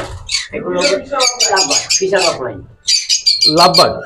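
Pigeons in a pigeon loft, loud close bursts of cooing and squawking calls with short gaps, several birds calling in quick succession.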